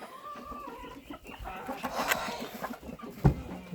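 Several chickens cluck and squawk nearby, with scattered rustling and a sharp thump partway through.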